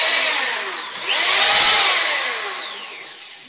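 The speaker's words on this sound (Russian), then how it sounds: "Хороший, надежный шуруповерт от фирмы Ижмаш." An Izhmash Profi DSh-1150 corded electric screwdriver drill runs close by on its own, its motor whine swelling, dipping and rising again throughout.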